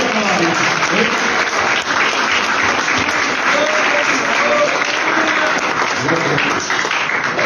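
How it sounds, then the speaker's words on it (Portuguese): A church congregation at a men's congress service claps loudly and continuously, a dense, sustained wash of applause with faint voices mixed in. "Pode aplaudir a palavra de Jesus."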